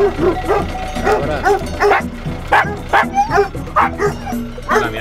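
A dog outdoors near goats gives a run of short barks and yips in an uneven rhythm, loud and close, with people talking in between.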